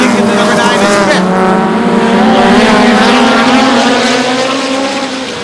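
Short track race cars roar past in a loud, continuous pack, their engine notes rising and shifting together as they race around the oval.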